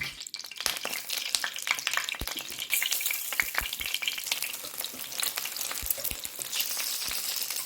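Halved boiled eggs frying in a pan for beef nargisi kofte, a continuous crackling sizzle with sharp pops and spatters scattered throughout, no talking.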